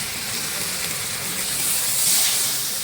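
Rohu fish pieces hitting hot oil in a pan for Bengali fish kalia, a steady loud broadband sizzle and hiss that swells slightly toward the end, with no talking.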